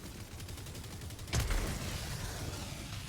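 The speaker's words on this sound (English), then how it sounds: "First off, let's test the Slugger against the MG Devastators." Slugger gun in a video game fired at MG Devastators: a single loud blast near the middle, with game background noise continuing underneath.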